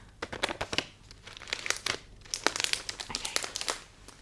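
Close, quiet crinkling of a crinkly item handled for ASMR, with dense irregular crackles and small crunches continuing throughout and no voice.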